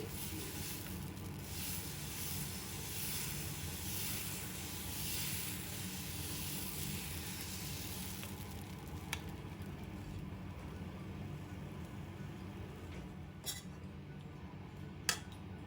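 Dosa batter spread over a hot dosa pan gives a steady close hiss with soft scraping, then a few sharp clicks of a utensil against the pan toward the end.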